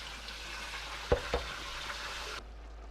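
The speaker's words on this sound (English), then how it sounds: "Just kind of stirring it up, making sure nothing's burning on the bottom." Chili simmering on medium heat in a pot on the stove is stirred: two scraping spoon strokes against the pot bottom over a soft, steady sizzle, close and fairly quiet, with no talking.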